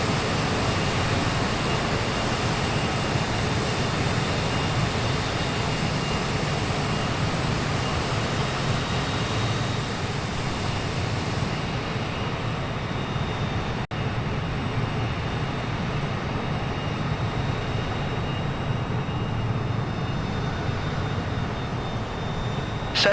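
A Cessna light aircraft drones steadily in flight in the air near Everest, a loud, continuous engine roar that never changes and fills the whole stretch, with no voices.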